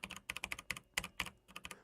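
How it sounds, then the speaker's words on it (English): Typing on a Velocifire TKL78 tenkeyless mechanical keyboard fitted with Outemo Brown switches: a close, steady run of soft, fairly quiet keystrokes in uneven clusters, with no voices. "Now the switches it has in the Velocifire here are Outemo Brown switches"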